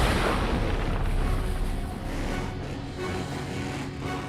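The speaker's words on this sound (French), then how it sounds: "Cette explosion, c'est toi?" Explosion in a Hot Wheels Monster Trucks cartoon, a loud, dense roaring blast that fills the whole span and fades only slightly toward the end, with no talking.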